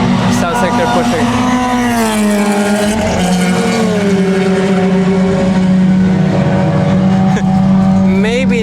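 Mazda Miata ND race cars come past on the circuit during a 12-hour endurance race, a loud, continuous engine drone that shifts pitch as the cars pass, with a commentator talking over it throughout.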